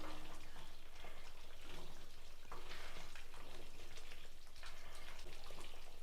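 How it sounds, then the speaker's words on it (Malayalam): Raw banana and drumstick curry being stirred in a pot, a steady wet bubbling and sizzling with soft scraping and spoon movements, continuous and fairly close, with no talking. "ഒന്ന് ഇളക്കി നോക്കാം."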